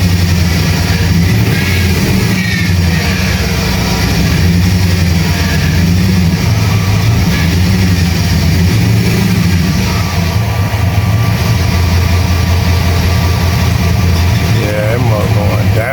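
A 5.3 Vortec truck engine with low oil pressure runs rough, giving a loud, continuous low rumble close by. It is steady but uneven, with a person talking over it.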